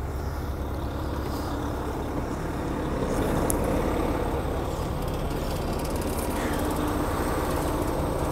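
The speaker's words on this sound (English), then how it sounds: "Just gonna check, make sure my brakes are applied again." A tractor-trailer's air brake system is tested, with brakes applied during a tractor protection valve check. It produces a steady, loud hiss of air over a constant low engine rumble, with no talk.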